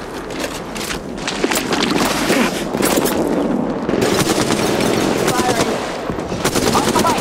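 Sustained automatic gunfire rattles nonstop in Apex Legends Mobile, loud rapid bursts mixed with game effects and faint background voices.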